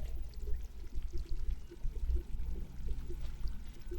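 Water pours continuously near buckets in the Stray video game, a steady rushing stream with a low, rumbling churn and a faint rhythmic splash, close and constant without speech.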